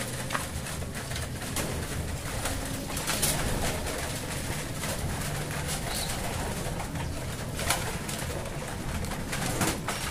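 Young pigeons coo steadily while being fed in a loft, soft repeated throaty calls close by over a continuous rustling background, with occasional brief scuffles and wing sounds.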